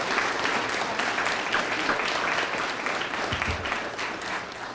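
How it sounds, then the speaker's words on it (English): Steady applause from an audience at a school district governing board meeting, fairly distant and moderate in level, sustained evenly for several seconds without speech. "Let's give them a round of applause."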